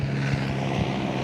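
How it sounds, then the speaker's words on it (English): An LAPD helicopter passes overhead outdoors, a steady, loud, low rotor and engine drone filling the whole moment without a break. "holding for helicopter."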